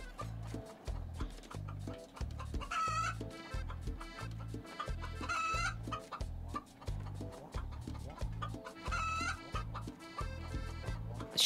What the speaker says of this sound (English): that noisy chicken won't let me